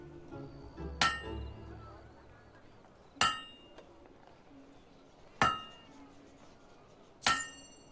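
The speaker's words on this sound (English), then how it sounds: "A perfect hammer blow." A hammer strikes a blade at a forge in the Fable II video game, four sharp metallic clangs spaced about two seconds apart, each ringing briefly before fading, clear over a faint background.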